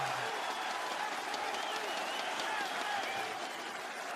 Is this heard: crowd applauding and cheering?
yes